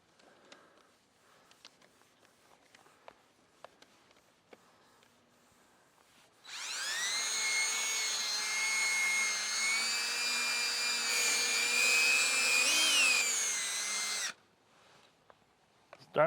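A power buffer from a 3M headlight polishing kit works on the headlight of a Chevy Impala, whirring loudly and steadily for about eight seconds, its pitch wavering under load, then cutting off into quiet handling noises.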